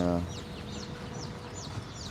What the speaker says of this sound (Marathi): इथे कोंबड्या पण आहेत